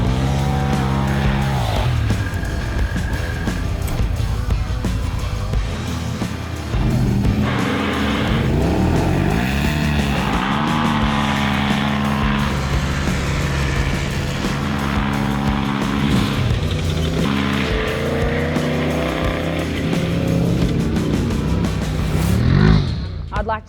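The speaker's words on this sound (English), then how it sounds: "This is the drag race challenge, where drivers will be put up against the Polaris Turbo R in a straight line sprint." A Toyota LandCruiser 79 Series and a Polaris RZR Turbo R side-by-side launch into a straight-line drag race, engines roaring loud and close with rising revs and gear changes, under a voice talking over the run.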